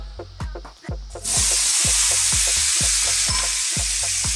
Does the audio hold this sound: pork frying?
yes